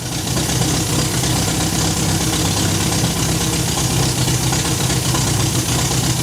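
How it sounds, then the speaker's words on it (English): An MGB car engine idles with no exhaust fitted, the pipe ending under the car, giving a loud, steady, rough mechanical drone that runs unbroken and close throughout. "There's no silence, there's no exhaust on it, the pipe is going out underneath the car."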